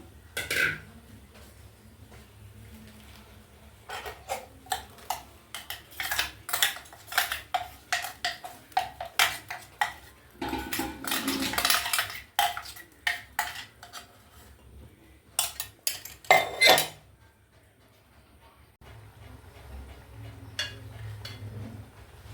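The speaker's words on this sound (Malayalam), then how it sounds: "നമുക്കിതിലേക്ക് തേങ്ങ അടിച്ചു വെച്ചത് ഇട്ട് കൊടുക്കാം." Ground coconut tipped into a pan of beetroot being cooked, giving scattered scraping and clinking of a spoon against the pan, with busier clattering midway and a final burst of knocks.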